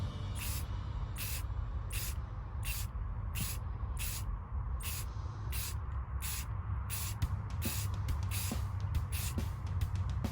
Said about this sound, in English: I'm going to spray it in light bursts and just let it fall.